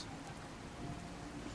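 Steady rain falls across an island dock at evening in the video game Fallout 4 Far Harbor, a dense, even hiss of drops on surfaces with no voices over it.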